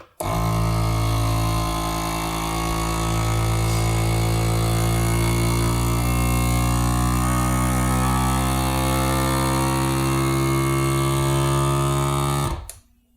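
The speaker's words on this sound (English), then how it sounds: "And then hit the vacuum button." Electric vacuum sealer with a jar attachment pulling air out of a mason jar of oatmeal, a loud steady motor hum with buzzing harmonics running continuously for about twelve seconds before cutting off abruptly.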